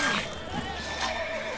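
Roach, the horse in The Witcher 3 video game, lets out a short, loud whinny close by, with a brief rising and falling cry and some game background noise beneath it.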